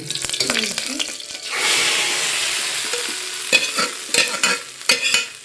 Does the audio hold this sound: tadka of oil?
yes